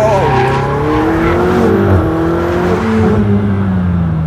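A Ferrari 488 GTB driven hard on a test track, its loud engine roaring and shifting pitch as it accelerates and lifts, close and continuous throughout.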